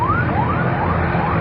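Security siren wailing outdoors at a rally in Pakistan, with repeated rising sweeps that are loud and continuous over a rough background din.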